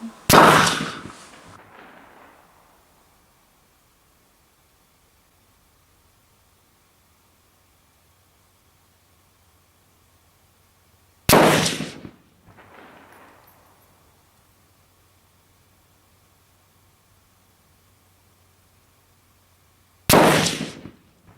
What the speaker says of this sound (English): I shot from a bench using the Aimpoint Micro T1 at about 40 yards.